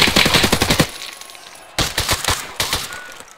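Rapid automatic gunfire in a video game: a loud burst of shots, a short lull, then two more bursts of rapid fire, close and punchy, with no talking.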